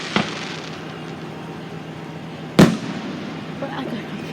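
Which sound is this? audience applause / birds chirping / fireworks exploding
fireworks exploding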